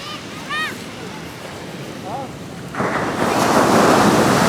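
Sea waves on a beach in Bali wash in with a rising surge of broad, hissing surf in the second half, while wind buffets the microphone and a few brief birdlike chirps sound early on.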